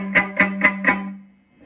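A palm-muted electric guitar with overdrive plays four quick, distorted chugs in an even rhythm, then rings out and fades, close and alone.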